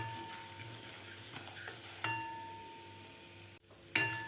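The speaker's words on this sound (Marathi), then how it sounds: "व्यवस्थित 1 मिनिटभर आपल्याला हे परतून घ्यायचे आहे डाळी." Urad and chana dal with cumin sauté in a pan for upma, a soft continuous sizzle with faint stirring scrapes and a couple of louder clicks, close and quiet.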